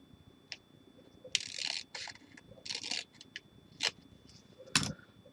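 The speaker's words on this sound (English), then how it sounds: "just use your scissors" Scissors snip off the overhanging paper edge of an envelope in a paper craft project, several short crisp cuts in an irregular rhythm, close and moderately loud with quiet pauses between them.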